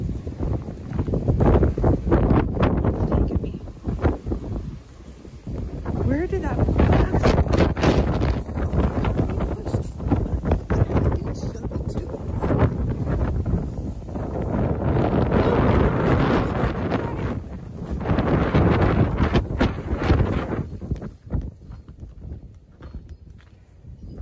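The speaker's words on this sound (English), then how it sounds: "oh my god, it is windy" Strong storm gusts batter the microphone outdoors, rumbling in loud, uneven surges with brief lulls between blasts over roughly twenty seconds.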